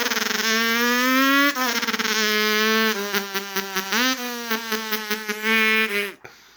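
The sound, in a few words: voice imitating a dirt bike engine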